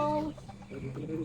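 Gamefowl chickens at a farm give short, soft clucks, faint and brief, with a person's voice murmuring in the background.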